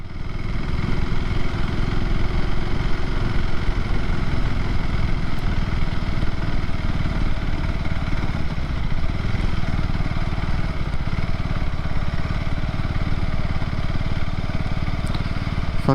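KTM 390 Adventure motorcycle engine idling steadily and close by, a continuous loud mechanical drone with light clatter, holding an even level with no talk over it.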